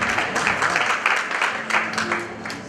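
Wedding guests at an Armenian wedding celebration applaud a guest of honour, a steady wash of many hands clapping at moderate loudness with a few voices mixed in.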